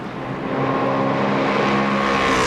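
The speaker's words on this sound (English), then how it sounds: "Down the hill, the two predominantly green or yellow cars." Race cars at Spa-Francorchamps roaring down the hill in a sustained, loud engine drone with rising pitch as the cars pass close by, with no voices over it.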